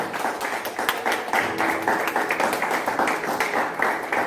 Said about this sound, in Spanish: ¿Será que le puede dar un fuerte aplauso al Señor en esta hora?